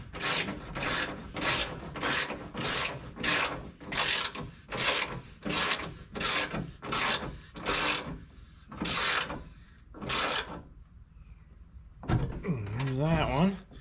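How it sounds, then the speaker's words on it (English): A ratchet wrench tightens bolts on a bracket holding a combine's auger, clicking in a steady back-and-forth rhythm of about a dozen strokes, followed by a short burst of louder metallic rattling at the end. "We'll tighten these bolts up."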